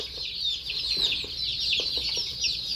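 Chickens clucking close by in a farmyard shared with ducks, a continuous busy chatter of overlapping clucks and calls under a constant high background hiss, with no talking.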